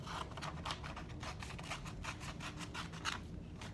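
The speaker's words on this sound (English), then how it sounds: "Scissors, the only sharp thing I trust myself with." Rapid, rhythmic snips of scissors slicing through paper, close by and fairly quiet, repeating steadily throughout.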